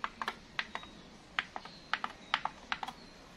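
Buttons pressed on an Onkyo HT-R494 AV receiver that had been frozen and unresponsive, giving a quick irregular series of around a dozen sharp, light clicks, fairly faint over a quiet background hiss.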